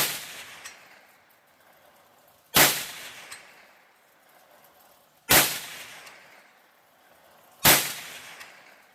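Three loud .22 WMR rifle shots using Federal Punch 45 grain ammunition, fired outdoors and evenly spaced a few seconds apart, each a sharp crack with a decaying tail and quiet in between.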